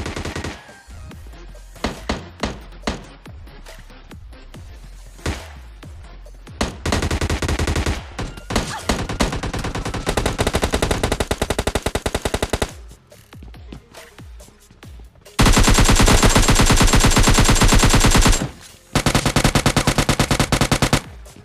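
Video game gunfire in PUBG Mobile Lite: scattered single shots early on, then long sustained bursts of automatic fire, loud and close, separated by short pauses, with no talk.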